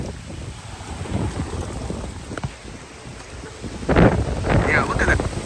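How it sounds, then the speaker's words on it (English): Very strong, gusty winds during a damaging windstorm on Staten Island, roaring and buffeting the microphone in surges, loudest near the end, with people talking beneath the gusts. "Very, very strong winds."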